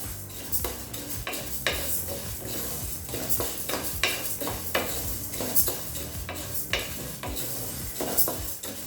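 Toor dal dry roasting in a pan without oil, a close, rhythmic series of sharp scraping and clinking stirs against the metal pan over a soft rustle of the lentils.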